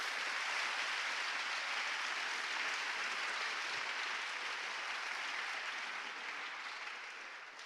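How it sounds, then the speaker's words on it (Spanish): A church congregation applauds after a sermon, a steady wash of clapping from many hands that fades slightly toward the end, with no talk over it. "Dele un aplauso al Pastor Zúñiga por el mensaje que predicó."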